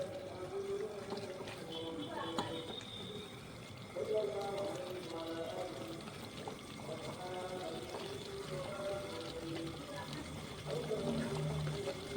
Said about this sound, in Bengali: এখন আমি অল্প করে জল দিয়ে দেবো কষানোর জন্য